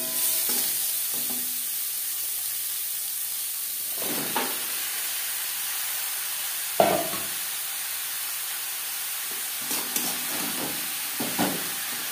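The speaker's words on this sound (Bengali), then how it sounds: "শুকনো লঙ্কা, কাঁচা লঙ্কা ও জিরে ভেজে নেওয়ার পর দিয়ে দেবো লাউ।" Chopped bottle gourd goes into a hot tempering of green chilli and cumin for a katla fish head lau ghonto, with a constant hiss and sizzle broken by occasional stirring scrapes and one sharper knock.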